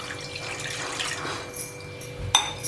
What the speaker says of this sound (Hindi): हम 1 गिलास पानी डाल रहे हैं।